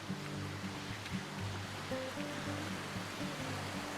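Waterfall in Chiang Mai, a steady, full rush of falling water that carries on without a break at moderate loudness, with faint low tones running beneath it.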